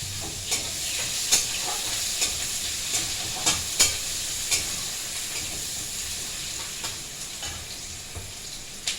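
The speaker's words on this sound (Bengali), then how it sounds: "আমি পেঁয়াজটা ভেজে নেবো" Onion frying in oil with bay leaf, a steady sizzle and hiss punctuated by repeated sharp crackles and pops, fairly close, with no talking.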